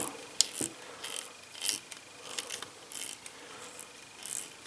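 Screws on a Unique Toys R-04 Nero figure get a final tightening, with soft close ticking and ratcheting clicks in an uneven rhythm, plus one sharper knock near the start.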